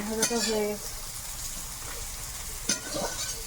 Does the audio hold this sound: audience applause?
no